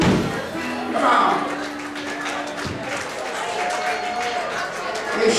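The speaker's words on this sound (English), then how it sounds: "Give him a great round of applause." An audience applauds at a blues harmonica show in Simi Valley, the dense clapping running under a loud speaking voice with sustained instrument notes mixed in.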